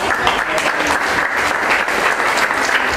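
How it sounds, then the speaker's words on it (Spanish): A crowd applauds steadily at a quinceañera celebration, dense clapping that stays loud and even from start to finish. "Un fuerte aplauso, un fuerte aplauso."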